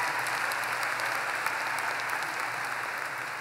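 Steady audience applause at an American University commencement ceremony, a dense even wash of many hands clapping that holds for the whole stretch with no voices on top.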